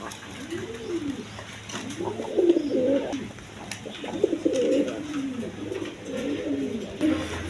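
Indian Bombay pigeons at a farm coo repeatedly in soft, rolling phrases, several birds overlapping at close range against a low steady background hum.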